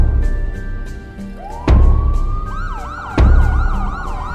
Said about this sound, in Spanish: Las sirenas resonaban por toda la capital